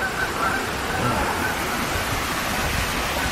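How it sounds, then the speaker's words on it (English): A small waterfall near Roslyn pours in a continuous, even rush of splashing water, close and steady throughout, with no clear voices over it. "It's a nice little waterfall."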